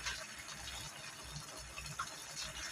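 Steady stream of water pouring into a pot, a continuous splashing gush with no talking.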